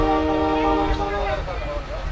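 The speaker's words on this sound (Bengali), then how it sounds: "হুইসেল কিন্তু বেজে গেল" A shuttle train at Godagari Ghat station sounds a long, loud harmonic whistle blast that fades after about a second, followed by station rumble and a voice talking nearby.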